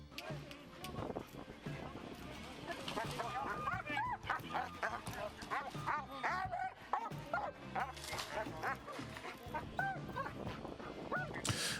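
A SWAT team police dog barks and yips repeatedly at a hostage scene over a busy background of talking voices, with bursts of yelping throughout.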